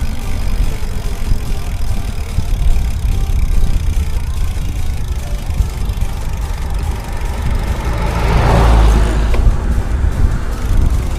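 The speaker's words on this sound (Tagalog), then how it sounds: "Ang bilis ng papuntang sasakyan sa akin." A car on the road speeds toward a cyclist out on road-bike training, its engine droning steadily under wind rumble and swelling loudest as it passes close near the end.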